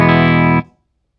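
A sustained electric guitar note runs through a Caline CP-19 Blue Ocean analog delay pedal into an amp's effects loop with amp distortion, loud and steady for about half a second before cutting off into a faint trailing decay.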